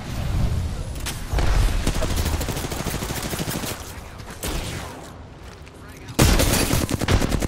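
Gunfire in the shooter game Apex Legends, with dense rapid bursts and volleys of shots that come in waves, pause briefly, then break out loudly again near the end. Voices talk during it.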